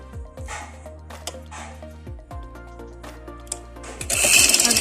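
A sewing machine stitches a cuff sleeve in steady mechanical runs, with short pauses and restarts, close and moderately loud, ending in a louder rattling burst.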